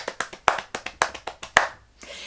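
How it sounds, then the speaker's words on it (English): A music teacher claps a rhythm for an elementary classroom game: about a dozen sharp hand claps in an uneven syncopated pattern, close and loud, with no talking over them. "And then I will clap one of the rhythms."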